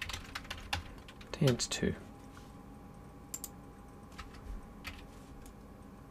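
Computer keyboard typing in a workspace while exporting from Maya to Unity, a quick run of clicky keystrokes clustered near the middle with scattered taps before and after, close and moderately loud under brief speech.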